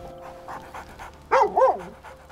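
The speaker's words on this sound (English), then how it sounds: "I want to pet the dog." Dog panting and barking in the video game Baldur's Gate III: several soft rhythmic pants, then two louder, close yips or barks near the end.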